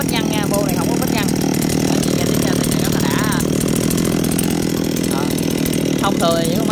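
A Stihl 024 AV chainsaw runs with an unbaffled exhaust, giving a loud, raspy, continuous engine drone close by, with people talking over it now and then.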